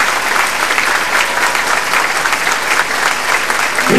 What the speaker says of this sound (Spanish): Regalémosle pues un fuerte aplauso de agradecimiento y amor de Dios.